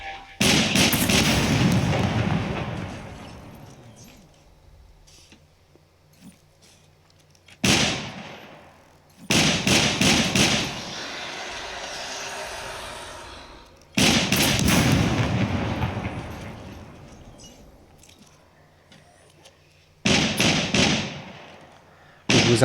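Loud bursts of gunfire aimed at a mech in the video game SCUM, arriving in four separate volleys with quiet gaps between, each blast sharp at onset then fading with a booming tail.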